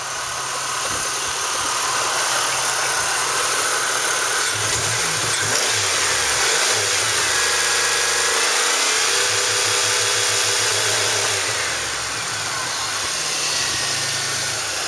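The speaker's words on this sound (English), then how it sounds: "Motor runs good." A 2002 Chevrolet Impala with a 3.8 engine and automatic transmission, 180,125 miles and a rusty body, runs at a salvage yard: a steady close idle that swells into a few revs, then settles back, with no talking.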